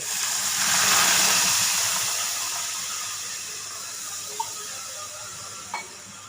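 A steady hissing rush of water being poured into slaked lime, swelling early then settling, with a couple of faint clinks near the end.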